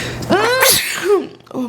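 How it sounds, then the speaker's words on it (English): A single person's sneeze, close and loud, with a sharp breathy burst followed by a shorter, softer vocal tail. "I'm sneezing."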